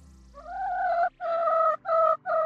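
Chickens in a henhouse, one hen giving four loud close squawking calls in quick succession, each a sustained harsh tone broken by short pauses.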